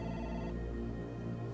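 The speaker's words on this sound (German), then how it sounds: "Telefon." A telephone rings steadily in Deus Ex: Human Revolution, a continuous electronic ringtone that stays loud and unbroken, with no voices over it.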